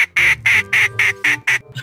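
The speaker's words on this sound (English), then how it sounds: "So you're a quacker, huh? He just quacks." A soundboard duck in Garry's Mod quacks loudly and close, seven rapid, evenly spaced quacks in a steady rhythm, with a low murmur underneath.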